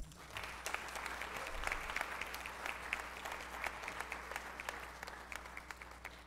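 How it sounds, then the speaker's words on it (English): An orientation audience gives a round of applause, dense steady clapping from many hands that stays moderately loud across the whole stretch without pause. "give yourself a round of applause."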